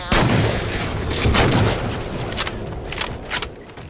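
Gunfire from the video game Halo 4, Spartan Ops mode: dense bursts of loud booming shots and explosions packed close together over a few seconds, with no voices.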